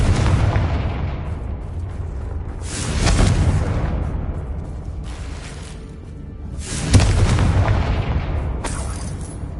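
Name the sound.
Confringo blasting spell explosion, Hogwarts video game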